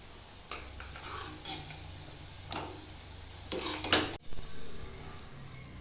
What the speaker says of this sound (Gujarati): ગ્રેવીમાં નાખી દીધું પનીર.